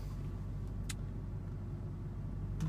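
Ford Mustang engine idling steadily in neutral, a continuous low rumble with no revving, accompanied by a couple of faint brief clicks.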